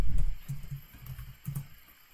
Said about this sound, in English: I'm going to type in lay ISO.